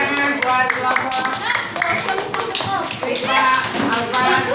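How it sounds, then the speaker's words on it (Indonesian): Applause for a student group in a classroom, a dense crowd of hand claps filling the room steadily from start to finish, loud and close, with some voices mixed underneath. "tepuk tangan buat kelompok"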